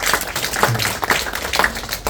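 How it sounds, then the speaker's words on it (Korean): Sparse clapping from a seminar audience at a business presentation, a few distinct hand claps in an irregular rhythm rather than a full ovation, close and fairly loud. "박수 한번 쳐볼까요"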